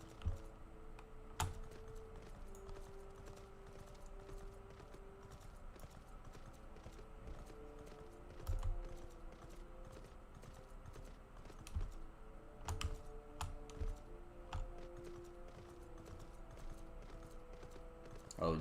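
Hooves of a horse mount in Final Fantasy XIV clip-clopping in a steady rhythm, with keyboard typing clattering over it and a few louder bursts.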